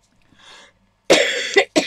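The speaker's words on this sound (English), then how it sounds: "once I start to cough" A person demonstrating chameleon pens coughs, a faint breath first, then three loud, close, harsh coughs in quick succession.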